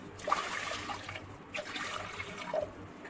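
Three cups of water pour from a cup into a cooking pot holding a cup of porridge oats, a soft, close splashing trickle with no talking.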